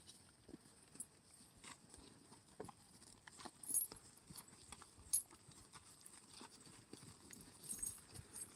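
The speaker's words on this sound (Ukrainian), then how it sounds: "Корови вже пішли, йдуть помалу." Cows' hooves clop softly and irregularly on hard ground at a distance on a farm, a slow ambling walk toward milking with scattered louder steps amid quiet outdoor ambience.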